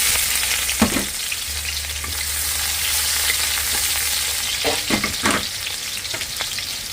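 Onion, garlic and ginger frying in a pan, a steady bright hiss with a few clattering stirs and utensil knocks breaking through the sizzle.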